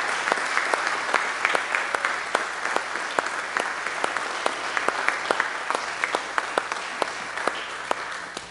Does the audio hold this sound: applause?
yes